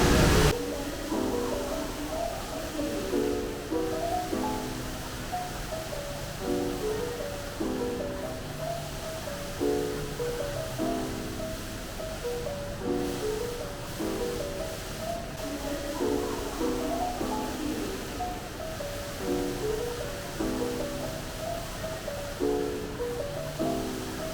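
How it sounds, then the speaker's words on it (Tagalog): Strong, steady rush of falling water from a large fountain in the ICONSIAM mall, a continuous broad wash with a voice speaking over it throughout. "medyo mababasa kayo. Gawa ng malakas yung bagsak ng tubig."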